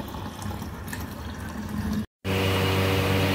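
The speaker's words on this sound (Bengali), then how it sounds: "হাফ জলটা সব বোতলের মধ্যে ভরে নেবো সবগুলো" Water is poured from a container into bottles at home, a steady close liquid gush that stops briefly and resumes fuller as the next bottle fills.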